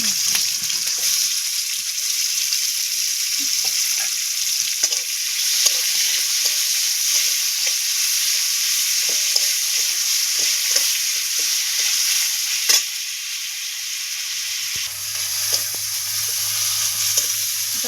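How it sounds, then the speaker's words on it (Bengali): Chopped tomato frying in a pan for an egg kaliya, a steady close sizzle with occasional scraping stirs running throughout, and a low hum joining near the end. "অল্প ভাজা ভাজা হবে তারপর মশলাটা দেবো"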